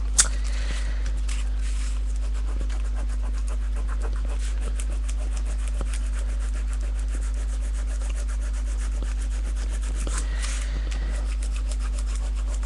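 Dried masking fluid rubbed off a copper sheet makes a soft, continuous scratchy friction sound up close, steady and quiet over a low background hum.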